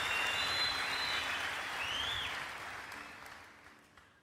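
An audience claps for a woman at a Melkam Wetat youth gathering in Damascus, a dense burst of applause that fades steadily over a few seconds, with no talking.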